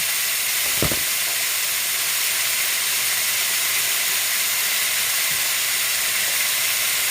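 Marinated turkey wings, soaked overnight with bay leaves, brown in a hot pan with a steady, close sizzle and hiss, with a brief low clunk near the start.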